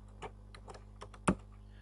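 Typing on a computer keyboard while entering a search in Maple math software, a sparse run of single keystrokes ending in one louder, sharper key press.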